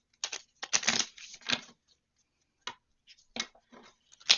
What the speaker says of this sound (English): I'm going to get these shuffled out and see if we can get for you for anything for love oracles.